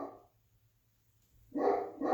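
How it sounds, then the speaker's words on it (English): A dog barks indoors, a short faint burst at the start and then two louder, closer barks after a pause of near silence. "My dog is going crazy."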